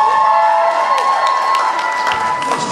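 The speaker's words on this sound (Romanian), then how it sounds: "Timp de 3 minute îi aplaudăm pe toți care au dansat" Audience applause for dancers at a school graduation ball's mothers' dance contest, a steady dense clapping and crowd noise throughout, loud and close.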